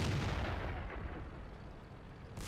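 Tank gunfire in the video game World of Tanks booms in a loud, heavy blast with a long rumbling decay that fills the whole stretch.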